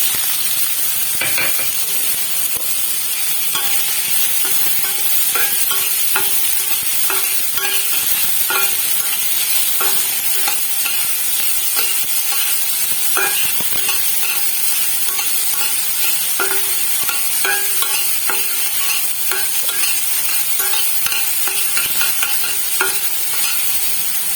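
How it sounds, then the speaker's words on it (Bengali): Ground onion paste frying in white oil with cardamom for a dhaba-style paneer dish, a continuous loud sizzle broken by frequent scraping and clacking stirs of a spoon. "পেঁয়াজটা আমি খানিকক্ষণ ভেজে নিলাম"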